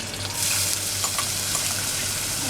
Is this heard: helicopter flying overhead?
no